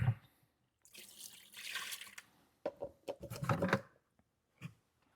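Water is poured and splashed in bursts onto a piece of broken plastic freshly repaired with a 100W plastic welder, quiet trickling and spattering with brief pauses between pours.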